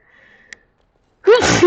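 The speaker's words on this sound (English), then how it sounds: "Sneezing unavoidable." A single sharp sneeze bursts out close and loud after near silence, with a faint tone and small click beforehand.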